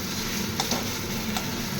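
Radish chechki, a Bengali dry vegetable dish, frying and being stirred in a pan, with a steady close sizzle and a few sharp scrapes of the spoon against the pan.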